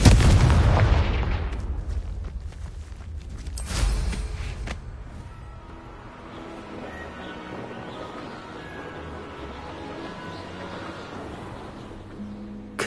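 A Confringo blasting spell in Hogwarts Legacy goes off with a loud booming explosion, followed by a second blast, then fades into a quieter, rumbling game ambience.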